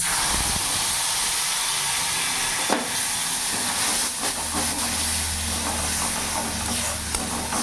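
A continuous loud hiss of whole spices and masala sizzling in hot oil for cooking taro, with occasional crackles and a low hum underneath.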